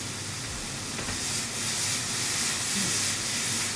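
A pan of food for a tabouli dish simmering on the stove, giving a steady broadband sizzling hiss that swells slightly midway, close by and continuous with no talk.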